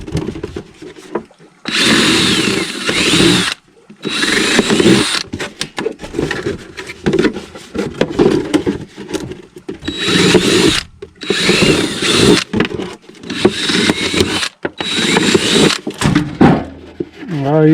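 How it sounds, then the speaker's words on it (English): Power drill cutting repeated holes into the sides and bottom of a plastic milk jug, with many loud whirring bursts broken by short gaps. "And then I'm going to drill holes"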